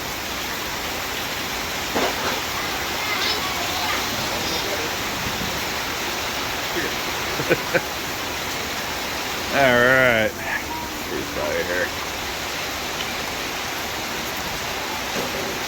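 Steady rain falls outdoors on a crawler course, with a constant broad hiss throughout, close to the microphone. Someone speaks briefly partway through, and a few faint clicks and knocks sound under the rain.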